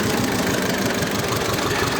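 A T-25 tractor engine runs steadily while pulling a plough through a field, a loud, close, continuous diesel rumble with a throbbing vibration and no speech.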